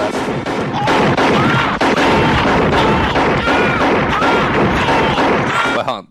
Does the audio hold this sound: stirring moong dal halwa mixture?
no